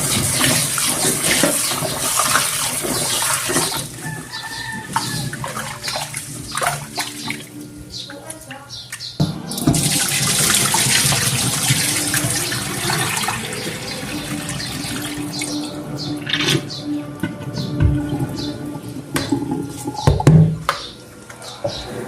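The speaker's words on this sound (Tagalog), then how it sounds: "Lagyan lang natin ng tubig." Tap water runs into a container while preparing an afternoon meal, a steady splashing wash under nearby household clatter, with birds calling in the background and a voice speaking intermittently.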